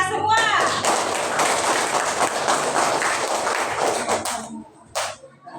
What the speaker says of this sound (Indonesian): Kasih aplaus dulu untuk kita semua.